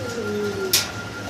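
Fancy pigeons in a loft, a single low drawn-out coo close by followed by a short bright rustle or flap, over steady background hum.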